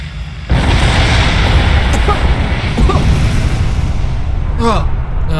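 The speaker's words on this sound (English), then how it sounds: "Oh, that was a louder explosion than I thought." A loud explosion in the sci-fi game Star Trek Online, a sudden heavy blast that swells into a sustained roaring rumble, with brief electronic chirps near the end.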